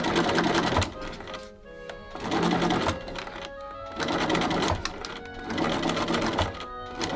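Sewing machine stitching a seam on a Victorian tea-gown-style robe, in four loud, steady bursts of rapid mechanical whirring, each lasting about a second, with short pauses between them.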